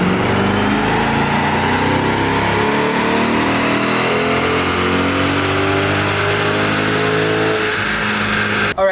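A 2024 Corvette E-Ray engine, twin-turbo build, revs hard on a dyno in one long, loud, sustained pull that climbs steadily in pitch for nine seconds before cutting off abruptly.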